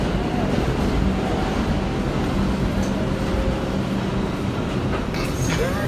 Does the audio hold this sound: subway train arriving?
yes